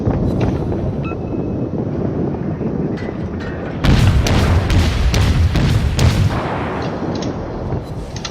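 Naval gunfire in the World of Warships video game: loud, booming salvos that rumble over a constant background roar, with a heavier burst of blasts in the middle of the clip and no talking.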